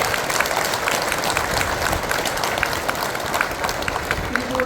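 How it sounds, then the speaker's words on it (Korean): An audience at a Buddhist teachers' association anniversary dharma assembly in Busan claps warmly to welcome a guest, a continuous even patter filling the hall from start to finish. "부산 청소년 파라미타 협회장을 하고 계시는 백명숙 협회장님 또 큰 박수로 환영해 주시기 바랍니다."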